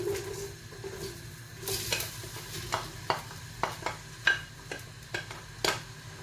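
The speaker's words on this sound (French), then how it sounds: "بعد من يسخن الزيت بتاعنا شويه باش نحطوا البصل نتاعنا يتقلى" Chopped onion frying in hot oil in a pan for Tunisian fish couscous, a soft continuous sizzle broken by regular scraping strokes of a utensil stirring it, close by and with no talking.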